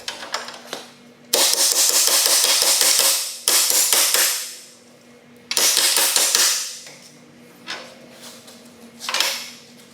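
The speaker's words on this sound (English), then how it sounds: "what I was doing there is called hammer on dolly" A steel panel from a wrecked custom ATV is struck on a metal dolly in loud, rapid bursts of hammer blows, each run ringing out before a pause, then resuming close and sharp.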